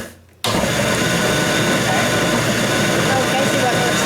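Food processor pulsing sausage ball mixture, starting abruptly after a brief quiet moment, then running as a loud, continuous whirring grind that stays steady to the end.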